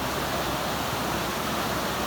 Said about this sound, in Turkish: Karadeniz'e doğru akıyor bu dere.